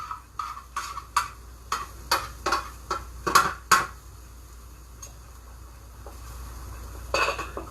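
Metal lids clank down onto cooking pots of rice and other stovetop dishes, a run of sharp clinks and clatters close by, spaced irregularly, then a quieter stretch before a final cluster of knocks.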